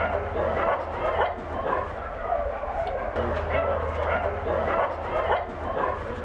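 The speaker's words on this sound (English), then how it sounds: "There are 750 dogs here." Many dogs bark and yip at a large dog shelter, a busy chorus of overlapping barks heard at a moderate distance over a steady low hum.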